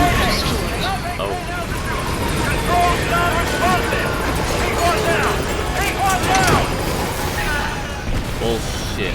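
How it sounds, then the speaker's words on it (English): A helicopter in Metal Gear Solid V drones steadily through the whole stretch, close and loud under busy game effects and bursts of gunfire-like clatter, with people talking over it. "Already a backup chopper."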